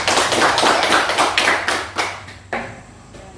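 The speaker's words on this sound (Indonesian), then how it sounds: "Tepuk tangan." Classroom clapping as students applaud in a lesson, a loud burst of rapid overlapping hand claps that thins into a few scattered claps and fades out toward the end.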